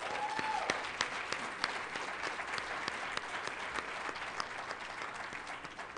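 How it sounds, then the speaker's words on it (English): A conference audience at a young women's event applauds in a steady, even wash of clapping from a large crowd, sustained throughout with no talking over it. "They deserve a round of applause."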